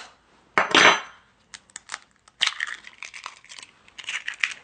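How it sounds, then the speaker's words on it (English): An egg cracked and dropped into a sugar and cacao mixture in a bowl, a sharp crunchy crack followed by a few short clicks and taps of shell against the bowl, close and clear with no talk. "Then we're gonna drop an egg in there."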